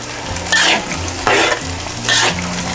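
Pork pieces fry in a pan over medium heat while being stirred: a steady close sizzle with three louder scraping bursts of stirring spaced about every second.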